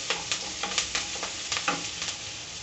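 Curry leaves stir-fry in a pan, a close, loud crackling sizzle with repeated scraping strokes of stirring through the short stretch.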